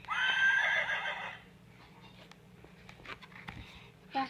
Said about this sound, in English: Oh, here's Horsey.